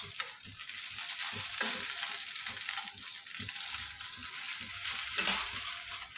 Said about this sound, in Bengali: ভালো করে চাউমিনটা ভেজে নে